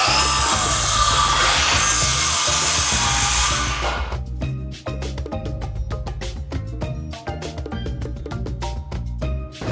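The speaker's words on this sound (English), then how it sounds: "Joe here is touching power tools, which he knows he's not supposed to do" A power tool whines loudly and continuously for about four seconds while a wooden drum riser platform is framed 16 inches on center, then cuts out, leaving a run of close, rhythmic knocks and clanks.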